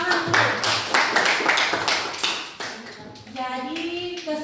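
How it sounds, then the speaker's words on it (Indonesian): A group of schoolchildren in a classroom clapping hands in rhythmic bursts at a teacher's cue, followed by a voice speaking. "Ya, tepuk tangan dulu."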